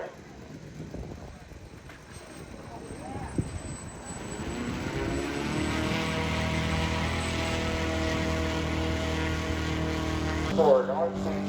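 A P-47 warplane's propeller engine at the Wings Over Arizona airshow, starting quieter with faint voices, then swelling into a steady, loud, droning roar that holds to the end.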